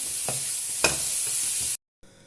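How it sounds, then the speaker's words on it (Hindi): Black pepper, salt and shredded boiled chicken stirred together in a pan, giving a steady close scrape and light sizzle with a couple of sharper utensil knocks before cutting off abruptly. "पहले इसको मिक्स कर लेंगे अच्छी तरह से"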